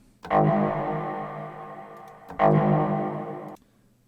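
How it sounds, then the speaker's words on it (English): Two loud processed bursts with heavy metallic, roomy reverb, each swelling and ringing out for about a second before cutting off. "So metallic one, big room, and combined."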